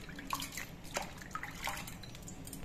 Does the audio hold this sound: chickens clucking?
no